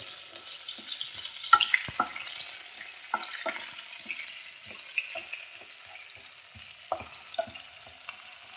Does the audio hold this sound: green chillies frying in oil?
yes